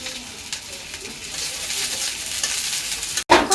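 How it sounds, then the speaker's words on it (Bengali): Dried chilies dropped into hot oil for a liver dish with onion, frying and sizzling as they are stirred, a steady broadband hiss close by with a brief cutout near the end. "এখন মরিচ ঢেলে দিচ্ছি"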